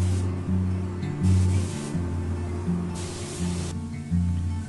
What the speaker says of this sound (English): I like to hose on my clear